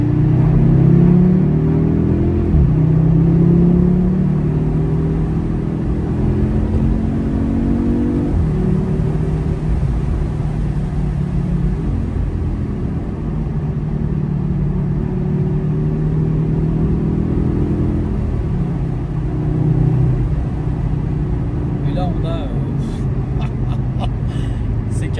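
An Audi TTS Quattro with a 320 hp engine accelerates in manual mode, its loud, steady engine rumble and rising revs sustained close by throughout, with a few sharp clicks near the end.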